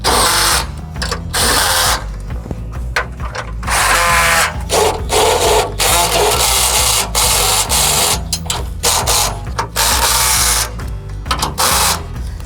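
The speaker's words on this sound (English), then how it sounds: "Using a 1/4 inch socket, go ahead and tighten everything up." A 1/4 inch socket driving serrated flange nuts while installing a front tow hitch receiver with shackle tabs: repeated loud whirring bursts of a power driver in short pulses, close up and continuous through the clip, with no talking.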